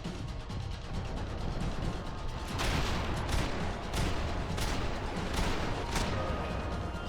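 Gunfire in the shooter game Max Payne 3, a dense continuous barrage of rapid shots and mechanical clatter at a loud steady level, with sharper bursts standing out in the later seconds and no voices.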